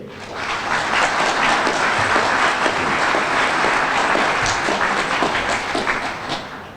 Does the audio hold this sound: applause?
yes